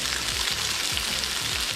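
Pre-made burger patties sizzling and frying in a pan on a stovetop, a steady, close hiss with a few faint crackles and no talking.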